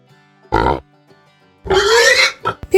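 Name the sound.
pig oinking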